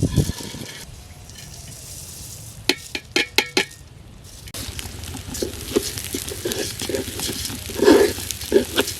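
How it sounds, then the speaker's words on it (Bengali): Washed rice and lentils, tipped in after garlic is fried, are stirred and fried in a pan for khichuri, with sharp spoon scrapes and clinks against the pan, then a steady moist sizzle under continued stirring. "এবার চাল ডাল একসাথে ভালো করে ভেজে নেব।"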